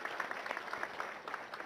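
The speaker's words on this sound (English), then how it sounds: "I think that deserves a big round of applause for the CP Cyberabad." Faint, rapid hand clapping from a crowd, a steady patter of applause heard at a distance, at the opening of a police cyber safety centre in Cyberabad.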